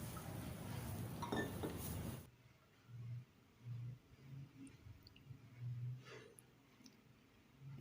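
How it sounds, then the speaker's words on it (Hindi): Three glasses of water go into a pan for beetroot beef curry: about two seconds of steady rushing pour, then a few soft low knocks and faint clinks of the pan in a quiet room. "एक पैन में मैं पानी ले रही हूँ, 3 गिलास पानी डाल रही हूँ"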